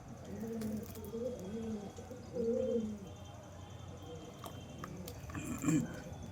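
Soft, low pigeon coos repeat in short rounded phrases over a steady murmur of background noise, with a slightly louder coo near the end.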